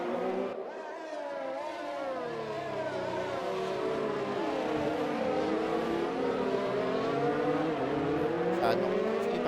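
A Formula 1 AlphaTauri race car engine in a racing video game practice session at Azerbaijan, a loud sustained whine climbing and shifting through gears over nearly ten seconds, with a voice commentating underneath.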